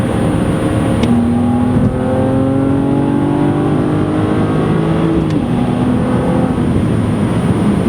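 A BMW Z4 3.0si Coupe engine revs and accelerates loudly up through the gears, its pitch climbing steadily, close and continuous.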